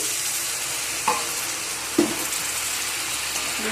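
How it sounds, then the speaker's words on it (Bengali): Spices, tomato and a little water sautéing in a pan for Beresta chicken, a steady close sizzle with two brief stirring knocks partway through and no voices. "সব মশলাকে ভালো করে কষিয়ে নেবো"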